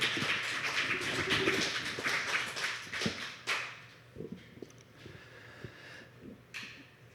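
Applause at a poetry slam fades out, leaving a few scattered, isolated hand claps that pop faintly in a quiet room, the last lingering claps sparse and irregular.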